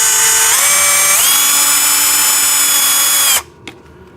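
A power tool whirs at close range as it undoes a bolt on a JCB ride-on tractor toy, its pitch stepping up twice before it stops abruptly, followed by a small click.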